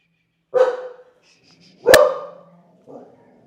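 Dogs bark at a visitor: three loud, close barks spaced about a second apart, the middle one the sharpest, with a faint whimpering tone in between.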